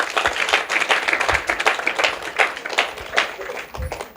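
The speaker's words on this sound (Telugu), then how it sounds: "చేతులు ఉన్న వాళ్ళందరూ కూడా చప్పట్లు కొట్టండి" A church congregation at a hilltop shrine claps their hands together, a loud, slightly uneven patter of many close claps with periodic stronger accents and no talk.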